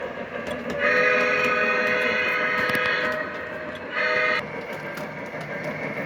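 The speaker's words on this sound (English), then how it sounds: "The train is slowing down as it's going to the industry" A model railway train slowing down rumbles along with a steady mechanical drone, with squealing and screeching wheels rising and falling as it rolls.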